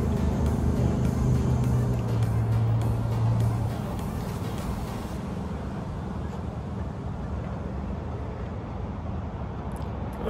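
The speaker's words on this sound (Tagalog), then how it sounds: "Maingay yung mga truck." Trucks on a nearby highway, a steady broad roar of passing heavy traffic with a deeper engine drone in the first few seconds, continuous and fairly loud throughout.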